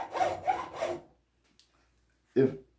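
A flexible hacksaw cuts wood for a rocking chair, three quick rasping strokes close up, a pause, then one more stroke.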